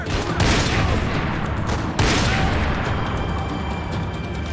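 Gunfire in the video game Max Payne 3, including a sniper rifle: dense, loud bursts of shots with a sharp crack near the start and another heavy blast midway, a faint voice buried underneath.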